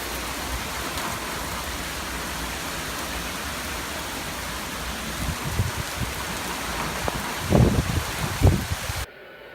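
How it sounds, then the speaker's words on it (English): Steady Florida rain falls as a dense, even hiss close by, with a few louder thumps and rustles near the end before it cuts off. "It's raining."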